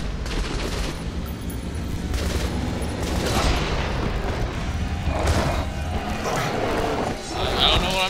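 Gunfire from the video game Metro Last Light crackles in bursts and booms across the stretch, layered with game effects and a busy mix, while a player talks over the action.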